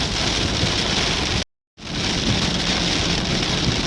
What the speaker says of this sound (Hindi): तो एकदम से मूसलाधार बारिश शुरू हो गई